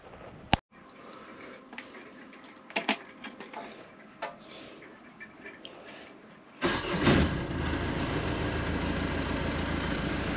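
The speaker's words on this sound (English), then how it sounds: "Turn the engine over." A boat's inboard engine cranks and catches after a few quiet clicks and knocks, then settles into a loud, steady running drone close by, with no talking over it.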